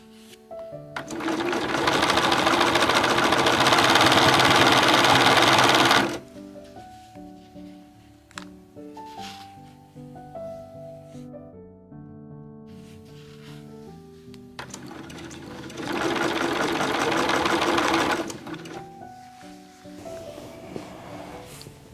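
A sewing machine stitches down quilt binding in two steady bursts, the first about five seconds long and a later shorter one, a close, whirring mechanical buzz with quieter tones in the gaps between.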